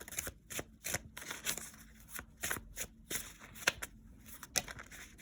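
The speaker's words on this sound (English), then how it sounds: "Let's keep shuffling." Tarot cards are shuffled by hand close up, a quick series of crisp riffling and slapping bursts with short pauses between, quiet and without talk.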